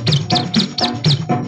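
A chirping figure in an old Hindi film song imitates a sparrow, repeated about five times in a quick steady rhythm over the music, loud and close.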